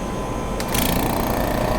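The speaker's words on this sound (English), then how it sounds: "I'm going to turn on my Welch vacuum pump" A Welch vacuum pump switches on for a rotary evaporator run, its steady mechanical hum rising in level and brightening partway through, then running on continuously and close.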